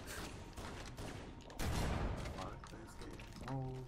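Amplified explosions and gunfire from the Halo: CE first-person shooter, with a continuous dense barrage of blasts and shots, a heavier boom rising near the middle, and no talking.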